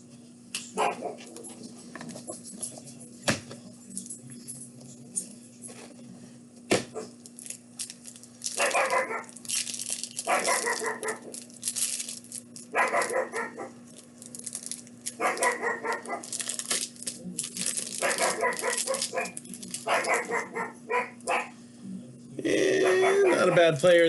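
A pet dog named Mocha barks in short bursts through a long stretch, indoors and fairly close, sometimes alone and sometimes with a steady hum behind it.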